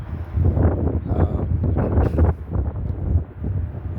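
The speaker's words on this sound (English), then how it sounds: "the wind's kind of blowing, and the wind's kind of a little bit chilly" Chilly wind gusts into the microphone outdoors at a plane-spotting spot, a loud, continuous low rumbling buffet that surges and eases in waves.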